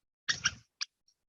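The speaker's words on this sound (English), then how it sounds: "Now, we will listen to the nuthatch." Nuthatch call: a quick burst of two or three bright, nasal notes, then a single short note after a brief gap. The calls are faint, clear and heard alone with no talk.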